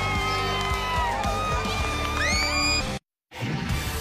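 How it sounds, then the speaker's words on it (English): Stadium crowd at an Ole Miss vs Kentucky college football game roars with steady cheering and whoops, a broad wash of noise that cuts out abruptly near the end before resuming. "Crowd loving Big Benny Snell today."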